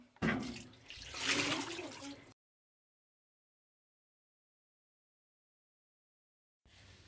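Icy water runs from a village tap or spring in a close, rushing flow for about two seconds, then stops into silence before a brief return at the end.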